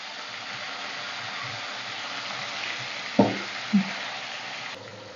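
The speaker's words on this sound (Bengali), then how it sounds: "পটলগুলো আস্তে আস্তে তেলের মধ্যে ভেজে নেব।" Stuffed pointed gourds fry in hot oil with a steady, low sizzle, broken by two brief louder spatters or clinks near the end.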